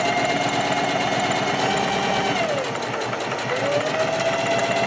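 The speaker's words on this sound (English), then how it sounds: "As you can see, I'm going to do a back stitch, and I'm going to keep going." A sewing machine stitches a back stitch on a 5/8 seam, its motor humming loudly and steadily close by with a fast mechanical chatter. The pitch dips and then rises again as it reverses, with no talking.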